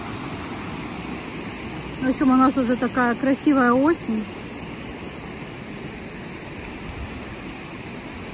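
A small river with a little waterfall rushes in autumn near Alzenau, Germany: a steady, broadband wash of water noise fills the whole stretch, with a voice talking briefly over it midway.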